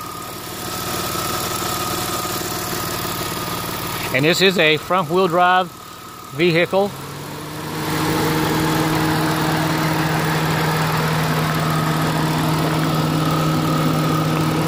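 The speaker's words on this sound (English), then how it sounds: "you can listen to the engine here run" A 1999 Chrysler Sebring engine idles with a steady, close hum throughout, briefly under a voice speaking before the idle settles back in alone.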